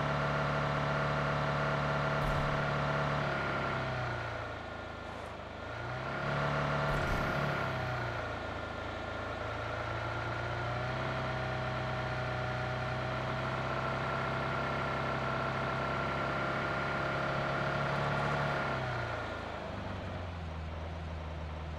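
A car engine in PUBG Mobile hums steadily at medium pitch while driving, dipping and swelling in level a couple of times, with a few faint thumps along the way.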